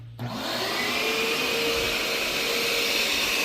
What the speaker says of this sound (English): You turn the vacuum on.